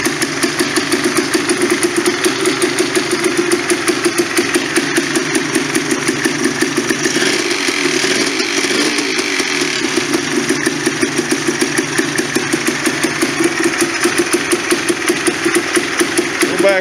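Polaris Sportsman 400 ATV engine, fresh carb rebuild kit and new throttle cable fitted, running at a steady loud idle with a regular chugging pulse and a faint rev dip partway through, heard up close for the whole stretch.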